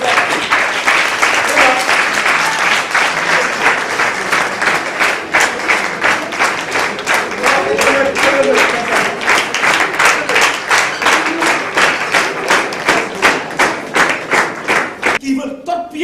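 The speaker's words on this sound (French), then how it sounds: "je voudrais que tout le monde applaudisse" An audience at a student political gathering in Senegal bursts into loud, sustained applause, with steady rhythmic clapping that swells and carries on for a long stretch before thinning at the end.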